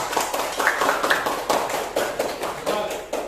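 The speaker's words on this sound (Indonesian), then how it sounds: "Tepuk tangan." Children and a teacher clap their hands in a classroom, a quick burst of scattered claps repeating in uneven bunches close by, with some voices mixed in.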